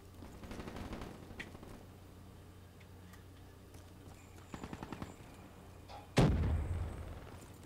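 Gunfire in the Black Ops 3 video game: a few scattered bursts of rapid shots at moderate level, then one loud, sharp blast near the end, with no talking.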